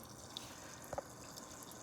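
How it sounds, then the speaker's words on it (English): A white tabletop water fountain trickles over rocks into a small bowl, a faint steady babble with a few soft drips. "the water starts from the top here and it pours down into a little bit of a loop turn down into the bottom"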